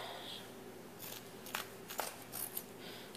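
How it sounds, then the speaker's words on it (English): Dull scissors snip through fabric as a tutu bow holder bodice is covered, giving a few quiet, uneven cuts at close range against a soft room hum. "I can't find my good scissors, so I'm using these, and they're just not the sharpest scissors"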